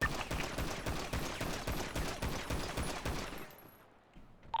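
Rapid gunfire at a shooting range in GTA, with evenly spaced shots in a sustained close, loud string lasting a few seconds before cutting to near silence.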